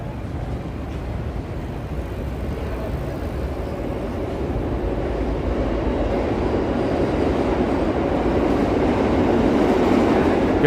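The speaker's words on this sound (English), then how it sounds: "Here's the subway right down there. Subway train." A New York City subway train rumbles past at night near 8th Street and Broadway, a steady loud roar of wheels and cars that swells gradually toward the end, with no voices.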